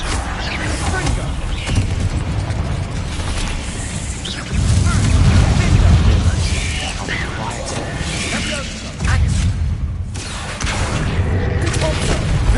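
Confringo spell explosions from a wand-casting game boom and crackle continuously and loudly. Heavier blasts swell around the middle and again toward the end over a dense mechanical rumble.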